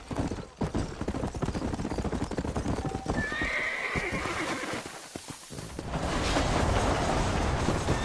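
A horse in the Red Dead Redemption game on PS4 clops along with rapid, close hoofbeats and lets out a whinny, followed by a deeper rumbling swell of in-game ambience.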